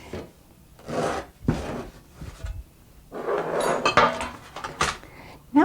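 A spoon stirs flour into sugar cookie dough in a bowl, making a run of rasping, scraping strokes with short pauses between them and a few louder knocks against the bowl.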